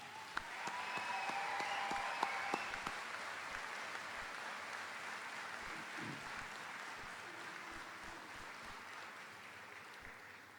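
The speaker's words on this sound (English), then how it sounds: "join me in applauding and thanking those who have helped you get here today" Graduation ceremony audience applauding families and friends, a broad, sustained wash of clapping from a large crowd that swells early, then slowly fades while staying fairly distant and soft.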